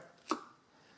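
A single sharp chop of an Eafengrow EF158 knife with an AUS10 steel drop point blade cutting through a carrot at a campsite, close and brief against quiet surroundings.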